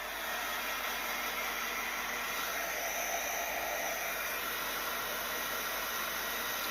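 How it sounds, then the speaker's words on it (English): A heat drying tool blows on a Chalk Couture lemons chalk project, a steady close airy whoosh with a constant motor hum and no break. "I'm gonna use my drying tool and dry this,"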